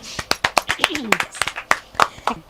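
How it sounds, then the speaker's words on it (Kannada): Clapping for children performing at a Children's Day programme, a loose run of sharp, close hand claps with uneven spacing, under a brief murmur of voices. "ಚಪ್ಪಾಳೆ"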